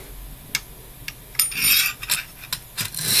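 A knife with a coated blade is drawn across the stone of a Lansky sharpening system in a series of short, close, gritty strokes that come in an uneven rhythm, several in quick succession.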